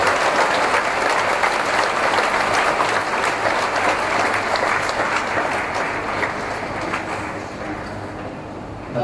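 An Easter Vigil congregation claps together in church, a loud, sustained wash of applause that holds steady for several seconds and tapers slightly at the end.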